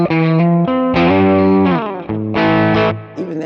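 An electric guitar runs through a Lekato Blues Breaker-style overdrive pedal, playing sustained, warmly distorted chords and bends in a few loud phrases that ring up close with a smooth overdriven edge.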